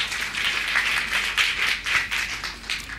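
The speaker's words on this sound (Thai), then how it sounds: "ขอเสียงปรบมือให้ด้วยนะครับ" Audience at a school teacher event clapping steadily for about three seconds, a dense run of handclaps from a room full of people, fairly near and unbroken.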